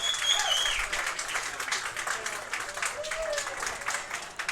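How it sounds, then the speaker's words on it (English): Audience applause fills the arena at a mixed doubles curling match, a steady wash of clapping from a crowd cheering the local team, with faint voices mixed in. "we have a tremendous applause happening here"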